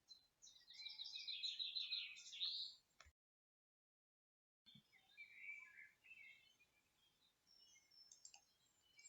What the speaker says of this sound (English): Birds serenade you with their sweet symphony as you make your way inside the ashram.